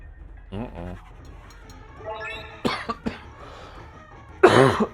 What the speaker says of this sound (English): I don't know why the cough is coming back.